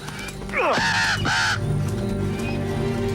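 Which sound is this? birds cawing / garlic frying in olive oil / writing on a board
birds cawing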